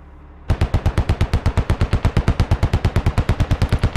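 Automatic gunfire in the video game SquadOps rattles off in a rapid, evenly spaced burst of about thirty loud, close shots after a brief quiet start.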